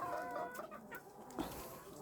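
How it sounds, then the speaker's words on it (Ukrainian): Several small young roosters and hens cluck softly in a farmyard as cracked corn is scattered for them, with short overlapping calls close by and no talk. "Три однакових півнички."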